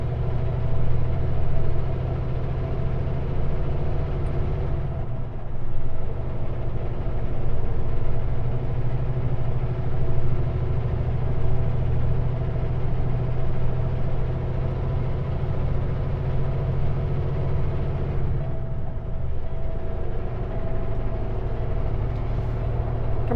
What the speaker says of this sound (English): Come on, engine, let's get a little heat in there.